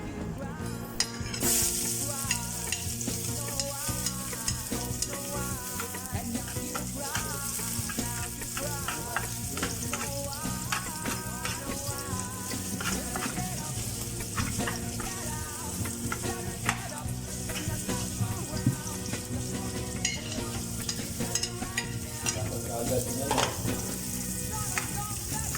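Oil heating in a pan for sisig, a continuous dense crackle and sizzle at moderate level with occasional stirring clatter, steady throughout.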